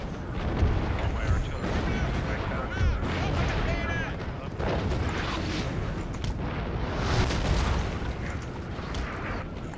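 Artillery booms in a Napoleon: Total War battle on the Waterloo map, a 3v3 match, arriving as repeated heavy blasts within a dense, continuous roar of gunfire and battlefield noise.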